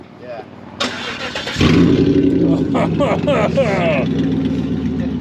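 A car with its mufflers cut off and straight pipes fires up loudly, catching and settling into a deep, throaty idle that carries to the end, with a brief voice heard before the start.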